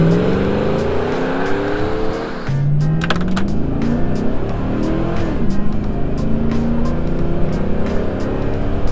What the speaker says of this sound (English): A couple of you guys asked for a Burnout